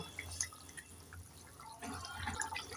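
Fish curry broth boiling in a pot, heard as faint, soft bubbling and popping with a few louder liquid blips over a quiet kitchen background.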